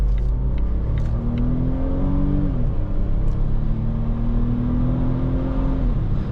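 A 2019 Volvo S90 engine pulls hard with a rising drone, drops in pitch at a gear change partway through, then climbs steadily again under continuous road rumble from inside the cabin.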